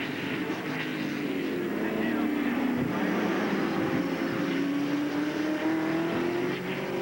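A race vehicle roars past at Sears Point Raceway during the 1995 Budweiser 200, its engine note swelling and rising in pitch as it goes by under the bridge, with a commentator talking over it.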